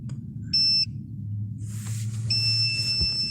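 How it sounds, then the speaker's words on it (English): A car's warning chime beeps twice, a short bright tone then a longer sustained one, over a low engine or road hum inside the vehicle. "Stop beeping at me."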